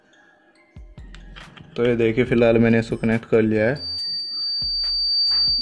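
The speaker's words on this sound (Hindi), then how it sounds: "ये आपको बिप सुनाई दे रही होगी।" Someone talks, then a steady high electronic beep from a DC power supply starts and continues unbroken to the end, with light clicks and handling noises around it.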